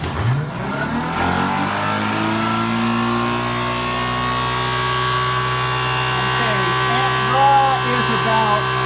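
A 24-volt electric motor starts and spins up to speed, its whine rising in pitch and settling into a loud, steady tonal hum with several layered harmonics.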